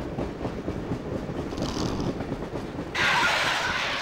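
Steady rumbling train noise from the video game The House of the Dead: Overkill, with rhythmic rattling, growing louder and hissier near the end.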